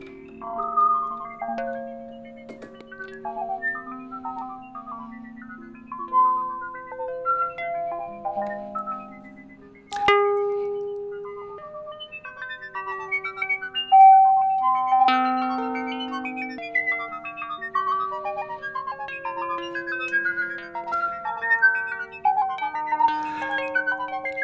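A Rings resonator module in a modular synthesizer played as a stream of soft, bell-like plucked tones in shifting pitches, with occasional sharp clicks, at a low level without speech.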